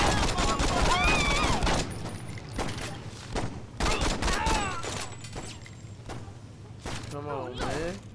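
Gunfire in Saints Row rattles off in rapid bursts and single shots at close range, mixed with street noise and engine sounds, while voices talk over it.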